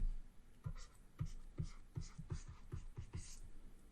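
A pen scratching on paper while drawing a graph, a close, quiet series of short rhythmic strokes and taps that speed up midway.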